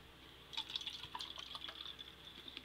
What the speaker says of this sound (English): So to rinse it out a little bit, pour it into the bin.